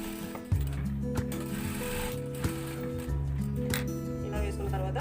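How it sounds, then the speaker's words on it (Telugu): A sewing machine runs steadily as it stitches fitting cloth onto blouse fabric, a close rhythmic mechanical whirr with regular clicks that continues for about five seconds. "దీన్ని పైన ఒక స్టిచ్ వేస్తున్నాను."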